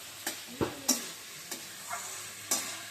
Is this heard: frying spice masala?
yes